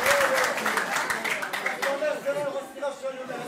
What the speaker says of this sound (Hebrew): וואלה, מגיע ליורם כפיים